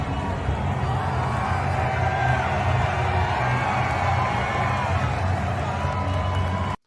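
A dense, steady roar from a large stadium crowd cheering after a Lions win over the Rams in an NFL game, holding loud and continuous until it cuts off abruptly at the end.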